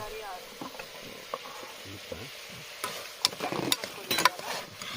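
Onion, potato and other vegetables frying in a pan at a campsite, with soft sizzling under scattered scraping stirs that grow busier and louder toward the end, and faint talk in the background.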